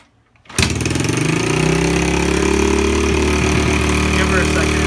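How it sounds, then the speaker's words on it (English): A 2011 Yamaha TTR110E dirt bike, running on choke, catches after a brief quiet moment and settles into a loud, steady idle close by. "We're gonna start her up, see if it runs in, you know, run and not in choke."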